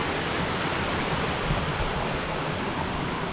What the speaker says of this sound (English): that is a cool little waterfall